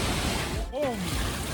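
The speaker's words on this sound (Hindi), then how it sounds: "झरने के नीचे स्नान करेंगे" Roadside mountain waterfall on the way to Chopta, a steady broadband rush of falling water filling the scene, with a brief voice sliding through the middle.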